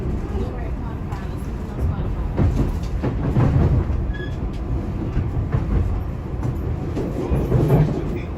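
A SEPTA commuter train rumbles steadily along the tracks with rhythmic clatter, heard from inside while crossing a stone arch bridge over the Schuylkill River, while a person talks over the noise.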